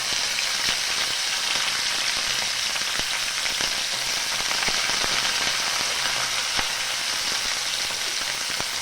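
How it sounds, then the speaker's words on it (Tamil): Dried anchovies (nethili karuvadu) frying in hot oil in a pan, a steady, loud, dense crackling sizzle with scattered sharp pops that carries on without pause. "இதை வந்து நல்லா இதில் வந்து ஃப்ரை பண்ணி எடுக்கணும்"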